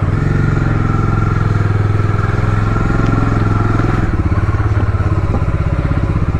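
A motorcycle rumbles loudly and steadily close by as a ride begins on the road from Kolkata toward Digha, the engine droning with a pulsing throb for several seconds.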